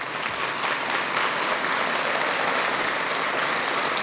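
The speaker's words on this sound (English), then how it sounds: "let's all give them a round of applause" A conference audience at an economic council annual meeting gives a sustained round of applause, dense steady clapping filling the room throughout with no voices standing out.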